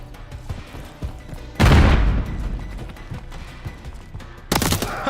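A grenade blast and bursts of gunfire from Call of Duty: Modern Warfare 3: a loud, heavy boom erupts partway through, followed by a rumbling tail, then another sharp burst of shots near the end.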